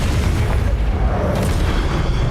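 Confringo blasting spell detonating in Hogwarts Legacy, a loud, sustained low booming rumble filling the whole moment without a clear separate impact, no voices over it.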